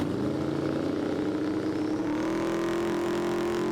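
Drag race cars, including a turbo Outlaw Street Camaro and a Cresta, launch at the Doorslammers event at Santa Pod, a sustained loud engine roar with the pitch climbing steadily as the cars accelerate.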